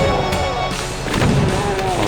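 A heavy super shotgun blast in Doom II, deep booming thuds fired against chaingunners, a couple of loud hits layered over droning game ambience.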